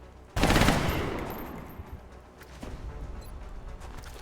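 Gunfire in XCOM: Enemy Unknown, one sudden loud burst of shots that rings out and decays, then a lower rumble of game noise, with no talk.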